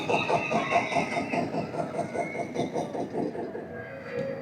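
A train rolls past in a LEGO racing video game at LEGOLAND's Minifigure Speedway, a moderately loud rhythmic clatter of repeated wheel beats with a steady tone that fades slightly at the end.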